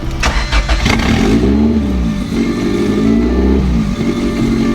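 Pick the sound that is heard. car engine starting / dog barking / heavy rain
car engine starting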